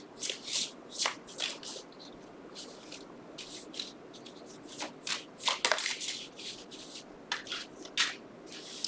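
A deck of oracle cards is shuffled by hand close up, with quick, papery riffling bursts repeating in an uneven rhythm over a quiet background.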